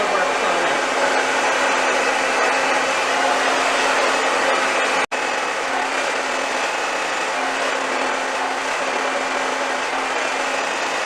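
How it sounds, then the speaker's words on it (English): A hair dryer blows steadily and loudly at close range while drying hair, a continuous broadband rush with a brief cut-out partway through, with no talk. "I'm going to give this a little blow dry"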